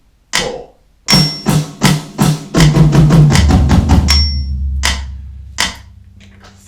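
Drum kit in a Rockschool Grade 1 exercise plays a fill of paired double strokes moving around the toms, close and loud, ending on a sustained crash with bass drum and a few trailing hits.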